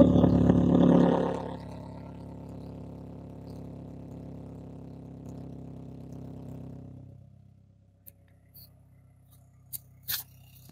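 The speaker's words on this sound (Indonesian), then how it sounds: "Kita dengar suara knalpotnya." Audi TT 8N with a big turbo: a loud exhaust rev at the start fades to a low, steady idle rumble that quietly dies away, with a few faint knocks and clicks afterward.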